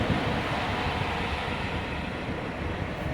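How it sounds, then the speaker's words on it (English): An arriving freight train rolls along rails at a rail yard, a loud continuous broadband rumble and rushing roar that holds steady throughout, with no voices. "train, freight train."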